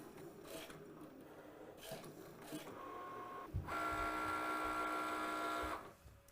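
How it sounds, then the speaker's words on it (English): A Cricut Maker's rotary cutter works through fabric pattern pieces, a mechanical whirring with short motor bursts and then a steady, fairly quiet machine drone for a couple of seconds before stopping. "So you can see that little rotary cutter sort of twisting and turning, and it's getting all of those little fabric darts and markers and all of that cut perfectly out."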